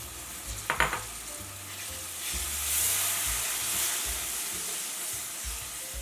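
Chickpeas tipped into a pan of spices and shredded ginger for Indian chole chaat, a brief clatter of the drop followed by a steady, moderate sizzle and frying hiss with faint stirring throughout.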